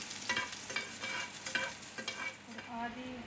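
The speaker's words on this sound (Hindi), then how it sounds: "2 टेबल स्पून अम्मी ने तेल डाल के गार्लिक जिंजर चॉप करके इसको सौते कर रही हैं हल्का सा" Chopped garlic and ginger sauté gently in two tablespoons of oil, quiet sizzling broken by rhythmic spatula scrapes against the pan about every half second.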